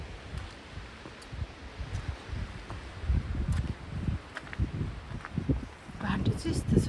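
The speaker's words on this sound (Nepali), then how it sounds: "हावा चल्दैछ।" Wind gusting through trees at Raven Crag in the Lake District, a steady rushing roar with rustling swells, rising toward the end, heard from a wet woodland path.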